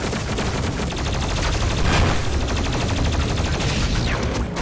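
Rapid, loud gunfire in DOOM Eternal, a dense, continuous burst of shots over roughly five seconds with explosive impacts, no talking.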